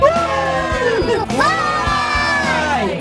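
Sports fans of the University of Kentucky cheering in a radio advertisement: a loud crowd of shouting, whooping voices, dense and continuous for a few seconds, with a brief dip midway before the cheering surges again.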